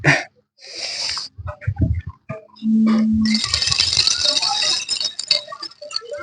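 Pebbles tumble and rattle in a dense, gritty cascade, after a few scattered clicks and knocks; close and fairly loud, with no talking.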